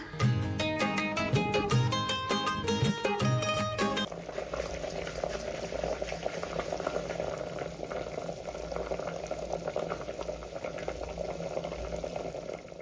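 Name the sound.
bottle gourd boiling in water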